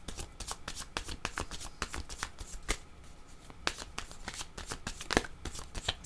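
Tarot cards are shuffled by hand in quick, repeated riffling bursts of crisp flutter and snap, fairly close and continuous, with a faint voice now and then.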